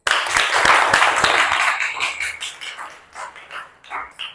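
A class of children claps together in a classroom, a burst of sharp, loud hand claps that thins into scattered, uneven claps and fades toward the end, with faint chatter beneath.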